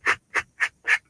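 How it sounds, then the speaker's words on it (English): Four short rasping strokes as a sanding block is rubbed around the edge of cut paper, each a brisk dry scrub with brief pauses between, close and clear with no talk. "sanding block"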